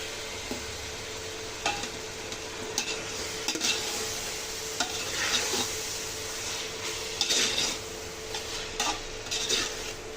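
A utensil stirs chicken biryani masala with mint and coriander in a pan, scraping and clinking in uneven strokes over a constant soft sizzle, close and moderately loud.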